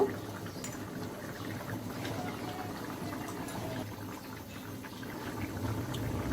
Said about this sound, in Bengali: ঝোল ফুটে উঠেছে।